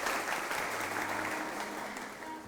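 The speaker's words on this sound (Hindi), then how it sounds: "आप लोग अपने लिए तालियां प्लीज़ बजा दीजिएगा" A police audience at a Youm-e-Shuhada event with Sindh Police claps in a brief, moderately quiet burst of applause that fades slightly toward the end.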